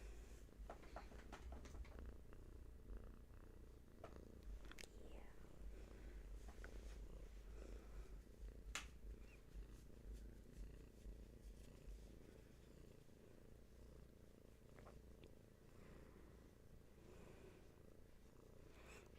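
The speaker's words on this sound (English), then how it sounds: "You might be able to hear the cat snoring." A sleeping cat purrs or snores softly in a quiet room, a faint, steady low rumble with occasional small ticks and rustles, no voices.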